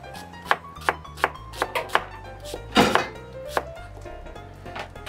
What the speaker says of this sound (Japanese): 僕はこのソース作るときは繊維に逆らって薄切りにします。